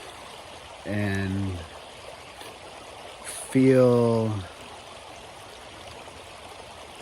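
Water flows steadily in a small stream, a soft continuous rush, while a person talks briefly twice over it.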